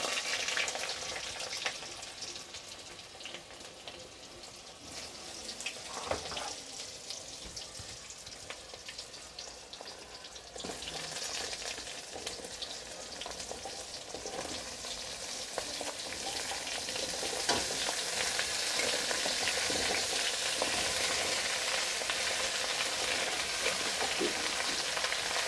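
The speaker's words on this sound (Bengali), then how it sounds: "এবার এতে আমি এক এক করে সব সবজিগুলো" Mixed vegetables sizzling and frying in a pan with dried red chillies and Bengali five-spice, a steady, close hiss that grows louder and brighter partway through, with occasional stirring scrapes and no talk.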